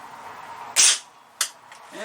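Diana Trailscout .177 air rifle firing a pointed pellet: one sharp, loud crack, then a second, fainter snap about half a second later, each short and abrupt against a quiet background.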